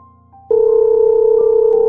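Telephone dial tone comes on suddenly after a brief click as a call is placed, a steady loud continuous hum lasting to the end.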